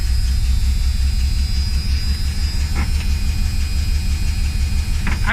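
A carbureted Ford Fox body Mustang engine idles with a steady, heavy low rumble that stays loud and close throughout, with slight unevenness in the beat and a faint high whine over it; no one speaks.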